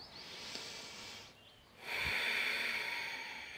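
A deep, full breath during a yoga flow: a soft airy inhale, a short pause, then a stronger, steady breath that sounds close and fairly quiet.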